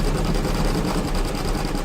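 A computerized embroidery machine stitching a rope bowl design at 600 stitches per minute: a loud, continuous, fast mechanical whirring and rattling hum with no pauses.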